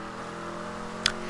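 A Dominator car engine accelerating in GTA 5 Online, a stunt vehicle, gives a steady, even drone that holds throughout, with one brief sharp click near the end and no talking.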